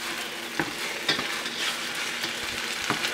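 Garlic spaghetti noodles being stirred in a frying pan, a soft steady sizzle with a few light scraping clicks from the utensil, close up and with no talking.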